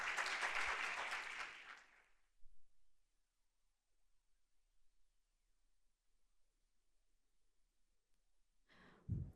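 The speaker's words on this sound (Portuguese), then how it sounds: "Uma salva de palmas." Applause from an audience at a career seminar on the financial markets, a loud burst lasting about two seconds that quickly fades into near silence, with a brief stir near the end.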